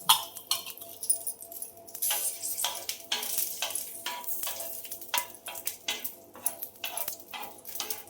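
Green chillies and garlic roasting on a hot tawa give a steady sizzle broken by frequent scraping and stirring clinks, fairly close and moderately loud with no talk.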